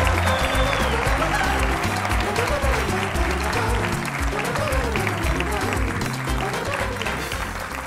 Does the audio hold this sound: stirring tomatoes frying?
no